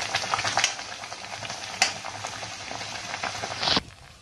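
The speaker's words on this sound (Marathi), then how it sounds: "तर आता आपण पुऱ्या तळून घेऊया।" Spinach puris deep-frying in hot oil, a close, bubbling sizzle with a couple of louder splashes, the last as a puri lifts or drops, before the frying noise falls away. Nobody speaks.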